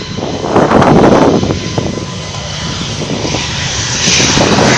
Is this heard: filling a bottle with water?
no